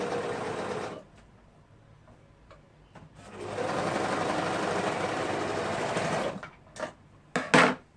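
A sewing machine stitching sweater fabric runs steadily for about a second, pauses, then runs again in a longer sustained burst before a few short stop-start spurts, loud and close with no talking.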